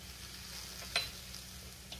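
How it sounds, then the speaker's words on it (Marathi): A ground spice paste goes into hot oil already holding turmeric, coriander powder, garam masala and chili powders: a faint, steady sizzle over a low hum, with one sharp stirring clink near the middle and a softer one at the end. "त्यातच आपण हे वाटण जे करून घेतलेले ते घालायचे आणि व्यवस्थित परतून घ्यायचं"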